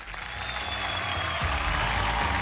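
An audience at a festival in Wai bursts into sustained applause, a dense wash of clapping that swells slightly and holds steady throughout.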